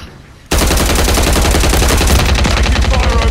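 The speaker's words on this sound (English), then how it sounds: "Taking fire over here." Rapid automatic gunfire erupts abruptly after a quiet half second in a first-person shooter video game, a loud, continuous stream of shots close by.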